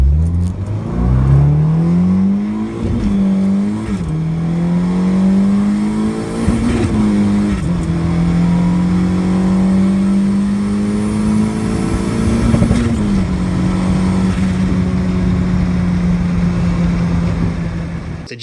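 A turbocharged car running 18 pounds of boost through a big GT30 twin-scroll turbo revs hard and climbs steadily in pitch as it accelerates, loud and close, with a brief dip between gear pulls.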